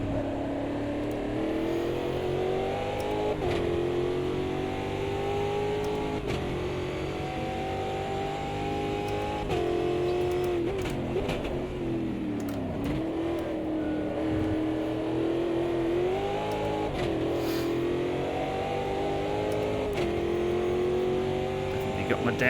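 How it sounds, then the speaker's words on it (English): Race car engine in the Brazilian Stockcar sim racing game at Goiania, droning loudly throughout with rising and falling revs and a botched downshift, under steady talk. "Definitely got my downshift wrong there."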